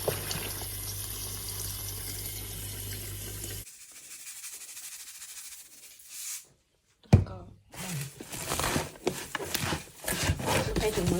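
Pickled Thai caper greens (phak sian) being rinsed under running water, with a steady flowing stream first, then a pause and splashy rubbing and handling of the wet vegetables, loud and close.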